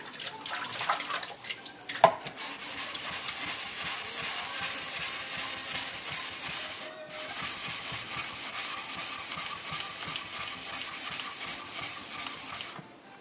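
An Aritsugu petty knife, a right-hand single-bevel blade, is ground on a wet whetstone in a continuous close, gritty scraping that runs nearly unbroken, with a sharp knock early on and a short pause midway.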